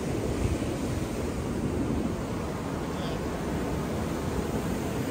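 Ocean surf rolling in at high tide on Daytona beach, a steady broadband wash of breaking waves with wind rumble, continuous and fairly close throughout.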